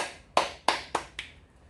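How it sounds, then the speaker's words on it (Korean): A man claps his hands four times in a quick, slightly slowing sequence, each clap crisp and close, the last one softer, with near silence between them. "이 대목에서 박수를 한번 치겠습니다."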